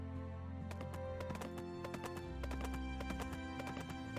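A horse in the video game Pumpkin Days trots with a quick, even clip-clop of hooves over layered background game music, faint and continuous, with no talking.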